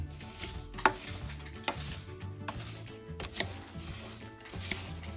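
A fruit and sugar mixture stirred in a pot before boiling: faint, soft scraping with a handful of light spoon knocks against the pot at irregular intervals, quiet and close, over a low steady background.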